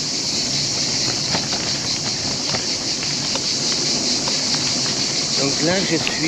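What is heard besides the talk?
cicadas chirping loudly along canal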